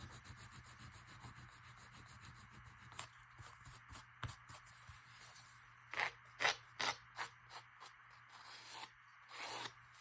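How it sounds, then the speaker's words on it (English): Torn paper sanded by hand for an Easter junk journal: close, rasping rubbing strokes, soft at first, then a run of sharper, louder scrapes in quick succession. "I'm gonna just sand it off, I think."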